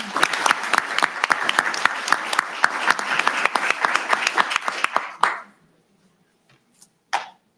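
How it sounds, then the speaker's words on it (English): Audience at a school recognition ceremony applauds a student, sharp overlapping claps building into steady applause that ends abruptly, followed by near silence and a brief noise. "One round of applause for Miss Kaylee Cagle."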